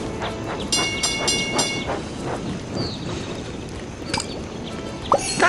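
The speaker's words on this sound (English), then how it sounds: "A new wagon? Your engine would love to pull that." In a Thomas and Friends video game, a train engine pulls a new wagon, rolling along with a continuous rattling, clattering run and brief tonal whistle-like accents, with no talking.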